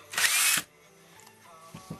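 A power drill bores into wood to make a hole for threaded rod, a loud, close burst of about half a second, followed by quieter handling noises and a couple of soft knocks.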